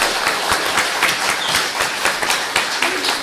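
Audience applause for two mayoral candidates at a League of Women Voters forum in Encinitas, with steady, fairly loud clapping from a crowd throughout.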